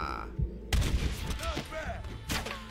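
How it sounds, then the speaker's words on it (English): Gunfire rings out in the video game Red Dead Redemption, several loud booming shots and rumbling blasts mixed with game sounds and a voice talking over them. "Where are you shooting from?"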